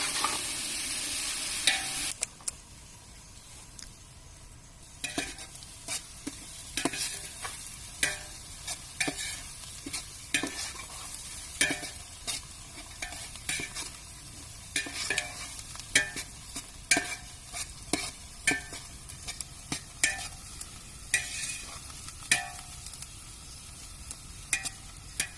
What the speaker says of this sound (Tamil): அது விட்டு கிளறி விட்டுப்போம்.